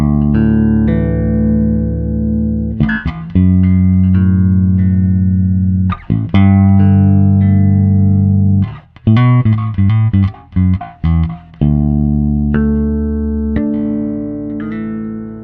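A bass guitar played through a Seymour Duncan Class D bass amp on a clean tone, sounding a loud, close run of sustained notes and quick plucked phrases with brief gaps, no talking.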